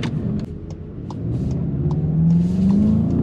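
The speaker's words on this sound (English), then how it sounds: "It just goes and the tires keep spinning, you guys." A 2021 Volkswagen Jetta GLI accelerates hard with its tires spinning. The engine rumbles and climbs in pitch over a few seconds, with short tire chirps and clicks on top, heard loud and close from inside the car.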